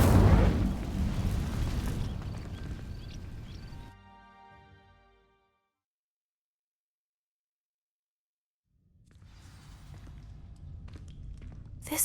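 A fire spell bursts into flame against dry vines with a loud roaring whoosh that fades over a few seconds, then silence, before a rough rushing noise returns near the end.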